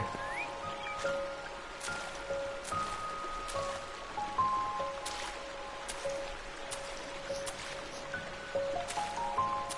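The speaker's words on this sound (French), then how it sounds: "Une petite cascade." Gentle trickling and dripping of a small waterfall in the game Pilgrim Redux, soft and steady with faint splashes, set against a bed of quiet electronic tones.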